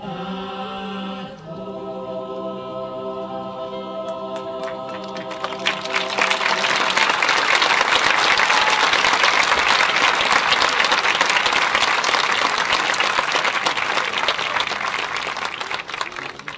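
At a 2018 graduation ceremony, a final sung chord from the senior concert choir fades out, then a crowd bursts into dense, loud applause that swells and holds steady for many seconds.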